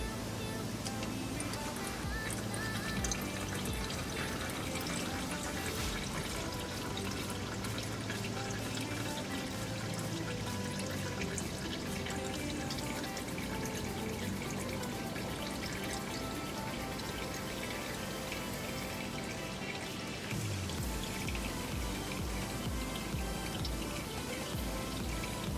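Differential fluid drains steadily from a 2015-2019 Ford Mustang, a continuous pouring trickle with occasional drips under a constant background hum, no one speaking.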